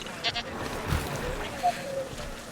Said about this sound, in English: there the Sinosauropteryx are attacking the goats